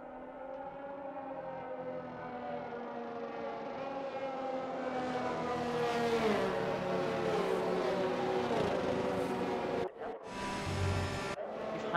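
Race cars on the formation lap of a Canadian Division X series round drone steadily, their engine pitch climbing as they build speed before a brief cut in the sound.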